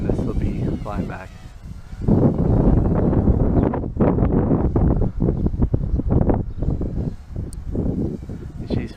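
Wind gusts buffet the microphone outdoors during a line-of-sight flight of a Walkera Rodeo 110 quadcopter drone, a loud, steady low rumble that swells and dips throughout, with someone talking over it.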